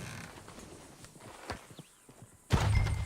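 Horse hooves clip-clop in the video game Red Dead Redemption 2: a few scattered, close thuds, then a sudden burst of louder noise at the end.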